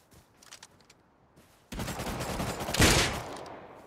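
AK rifle gunfire in the online survival game Rust: after quiet, faint sounds, a loud sustained burst of automatic shots erupts and peaks near the end, dense and close, with no talk.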